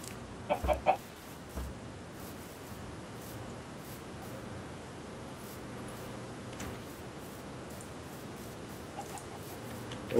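Chickens cluck in a game of Minecraft, a few quick clucks early on followed by scattered faint ones near the end over a steady background hiss.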